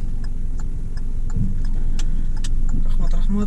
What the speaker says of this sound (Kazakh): Машина мени өткөрүүдө окшойт.